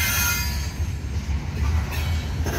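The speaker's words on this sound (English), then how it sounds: "You see train go there." A freight train rolls past close by, its steady low rumble of rail cars and wheels running loud and continuous throughout with no talking.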